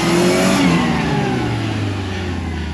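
A 4-wheel-steering buggy on sticky tires revs hard up a steep, deeply dug dirt hill climb at an OHV park. The close engine roar is sustained, and the pitch sweeps down as the load shifts.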